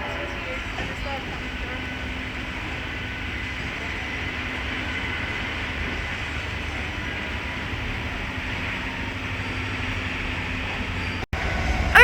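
Freightliner Class 66 diesel freight locomotive 66545 hauling wagons past Willesden Junction on the West Coast Main Line, a steady loud rumble and rail noise holding throughout, with speech over it.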